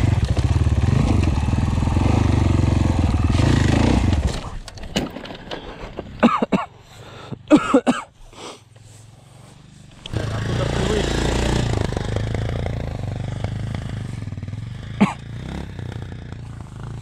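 Enduro motorcycle engine, an Avantis 250 or Minsk X 250 at an enduro park, runs loud and steady, then cuts out into scattered clattering knocks before the engine roars back up, with brief voices in between.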